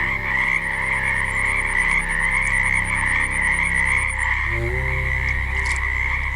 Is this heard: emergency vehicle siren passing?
no